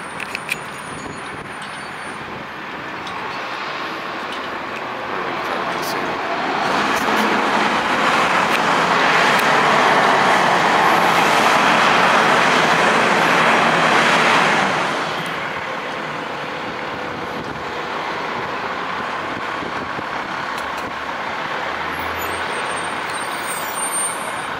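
Gillig low-floor 40-foot transit bus pulling away from a parking structure, its engine swelling to a loud broadband roar mid-clip before easing back to a steady idle-level rumble, with no talk.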